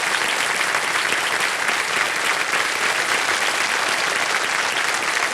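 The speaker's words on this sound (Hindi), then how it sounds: "तालियां बज जाए इनके लिए" A studio audience on Kaun Banega Crorepati bursts into loud, sustained applause for a contestant, dense clapping filling the whole stretch at an even level.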